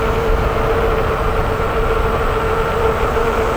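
A cheap dual battery e-bike from Tamobyke runs at full throttle with no pedaling, giving a steady loud motor hum and a constant droning tone over rushing wind and road noise throughout.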